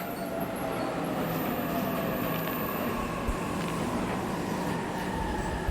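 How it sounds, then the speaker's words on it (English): Train in the video game 13 Sentinels: Aegis Rim pulling into a station, a steady rumbling rail roar with faint squealing tones, continuous and fairly loud throughout with no voices. "Train's already here."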